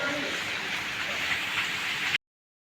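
Dense, steady rush of heavy rain pouring down, continuous and fairly loud, ending abruptly.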